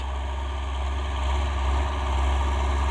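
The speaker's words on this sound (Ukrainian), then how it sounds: "на якому склоні працюємо, трактора зносить." A tractor engine labours on a sloping field during autumn soil preparation, a steady low diesel drone with a slight rise and fall in loudness, close and continuous with no talk.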